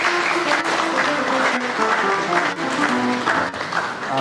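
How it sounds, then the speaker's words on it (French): Mourners applaud the grandchildren at a Congolese family funeral, a steady wash of clapping filling the whole stretch, with music or singing tones running underneath. "Applaudissons pour les petits enfants"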